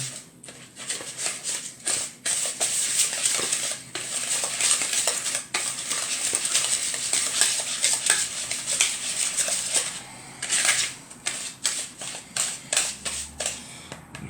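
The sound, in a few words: mixing a preparation in a bowl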